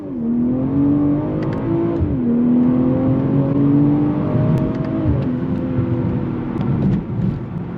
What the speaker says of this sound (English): Hopping the freeway of Mexico to do a little pull.